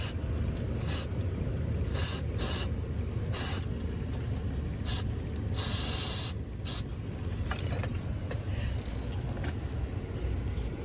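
Heavy duty silicone sprays from an aerosol can in repeated short hissing bursts during work on the rear propeller shaft bearing support of an Audi Q7 4L 4.2 V8, close and fairly loud over a low background rumble.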